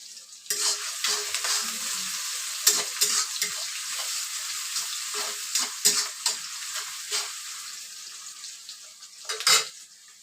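Chopped onion with a pinch of salt frying in a pan, a constant sizzle broken by frequent spatula scrapes and metallic knocks against the pan, close and fairly loud.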